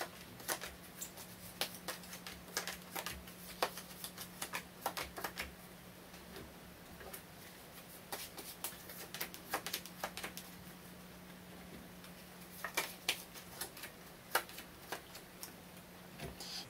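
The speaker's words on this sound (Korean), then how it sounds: "조언 카드도 한번 뽑아보도록 하겠습니다" Tarot cards are shuffled and drawn in soft, irregular bursts of crisp ticks and flicks, quiet and close, over a steady low electrical hum with no talking.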